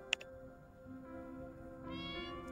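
A cartoon cat in a gameplay scene gives a single short, sharp meow near the start, followed by a soft, steady tonal game soundscape with no talking.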